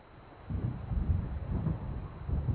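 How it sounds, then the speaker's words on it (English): Low, rolling thunder from an approaching storm in the Alan Wake video game rumbles in after a quiet opening and keeps growling in uneven swells, with no talking. "It seems there's a storm coming."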